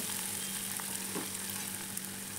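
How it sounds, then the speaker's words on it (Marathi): White onion and crushed garlic fry in hot oil, giving a steady, dense close sizzle that holds evenly throughout with no talking. "आता वरून त्यावर कांदा मी ॲड करते."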